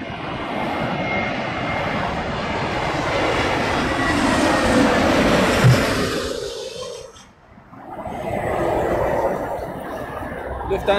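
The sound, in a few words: Lufthansa airplane landing in crosswind during Storm Dennis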